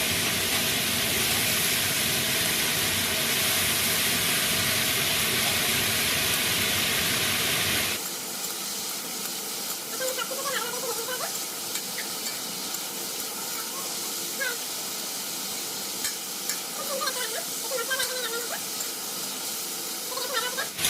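Green chillies drop into a hot pan of lightly fried papaya, a loud broadband sizzle for the first eight seconds, then a softer steady frying hiss with small crackles continuing close by.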